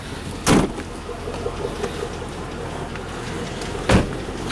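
Door of a 2003 GMC Yukon XL that needs an engine, shut twice with sharp, loud thumps a few seconds apart, over steady hiss and no talking.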